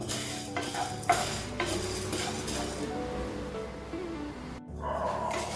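Lentils dry-roasted in a pan without oil, with a spoon scraping and stirring steadily. Soft rattling and metal clinks come through clearly with no talking, and the noise pauses briefly near the end.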